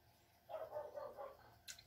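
A dog barks with a few short, close, repeated barks in the morning around breakfast, loud for a second or so before a brief quiet.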